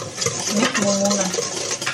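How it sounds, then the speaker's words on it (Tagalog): Banana cake batter of brown and white sugar with egg is stirred in a bowl, a close, steady scraping and swishing with light utensil clinks and a faint voice in the background. "Mix mo muna."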